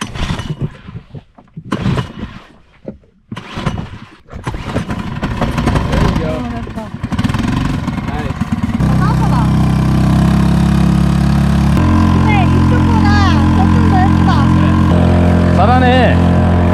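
An engine idles in a Mediterranean marina old-town setting, its steady low hum and throb rising after a stretch of voices and handling noise, then running continuously and fairly loud while people chat over it.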